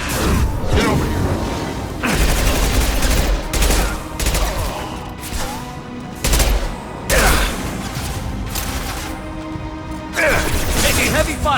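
Heavy gunfire in Mass Effect 2, repeated loud bursts of rapid shots and impacts arriving in waves with brief lulls between, dense and close throughout.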